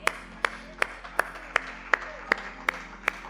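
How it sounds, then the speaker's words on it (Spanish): At a Sunday church service, clapping rings out in a steady, evenly spaced beat, about nine crisp claps over a few seconds in a reverberant hall. "¿Cuántos dan un aplauso al Señor?"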